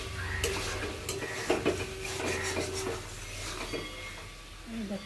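Bengali-style gravy stirred and sautéed in a pan with oil, spoon scraping and clinking against the pan in an irregular rhythm over a soft, steady sizzle.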